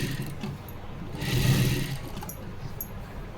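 Domestic sewing machine stitching a blouse piece to its lining, a steady close mechanical hum that swells briefly in the middle and runs without speech.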